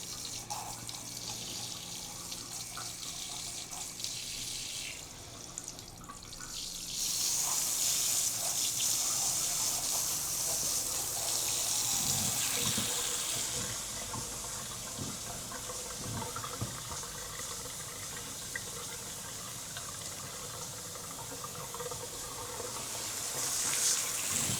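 A salon shampoo basin tap runs at full pressure, a steady rushing spray of water that swells louder partway through and keeps flowing without pause.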